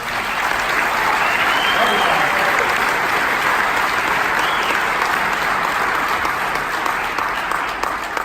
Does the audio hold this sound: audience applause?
yes